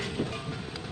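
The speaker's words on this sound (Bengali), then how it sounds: "এই স্টেশনটায় ট্রেন তো দাঁড়ালো না, বেরিয়ে যাচ্ছে।" The Poorna Express passes through a station without stopping, a brief steady rumble of moving rail cars heard close by.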